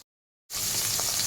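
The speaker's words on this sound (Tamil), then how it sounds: "நம்ம கருவாடை கொஞ்சம் பொரிச்சு எடுத்துக்கலாம்." Dried fish frying in hot oil gives a sudden, steady hiss and crackle that starts after a moment of silence and stays close and even.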